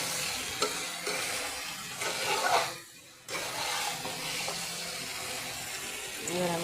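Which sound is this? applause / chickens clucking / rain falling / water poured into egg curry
water poured into egg curry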